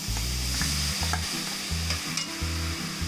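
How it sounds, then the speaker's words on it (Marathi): Barnyard millet rice, already washed, frying in a hot wok while being stirred, with a steady sizzle and repeated scraping strokes close by and no talking. "आता मी कढईमध्ये तांदूळ टाकते."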